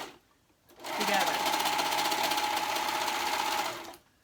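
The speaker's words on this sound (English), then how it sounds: "All you're sewing on here is the shoulder seams together." Sewing machine stitching the shoulder seams of a dress, a steady close whirring run of about three seconds that starts and stops cleanly, with no voice over it.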